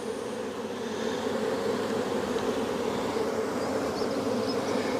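A dense swarm of honey bees drones steadily around an open hive, with a loud, continuous buzzing hum, close and unbroken, and no voices.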